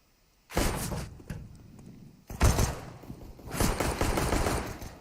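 Gunfire in a CS:GO match, three separate loud bursts of rapid shots, each sudden and close, with short quieter gaps between them and no talk over them.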